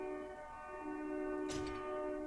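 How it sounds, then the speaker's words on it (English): Train in the survival video game 7 Days to Die, heard as a faint sustained horn-like drone with a short clatter partway through, steady and distant. "And the train."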